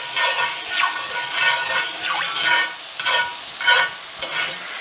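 A steak au poivre pan sauce of reduced beef stock and liquor bubbling and reducing, a steady close sizzle that swells in repeated waves as the pan is swirled or stirred, with no talk.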